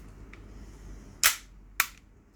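Tokyo Marui M&P9 airsoft pistol with an upgraded part, fired twice in quick succession, two sharp snappy cracks about half a second apart, close and fairly loud over a quiet room.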